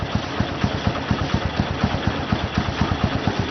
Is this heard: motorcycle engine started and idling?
yes